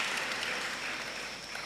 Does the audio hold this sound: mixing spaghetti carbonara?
no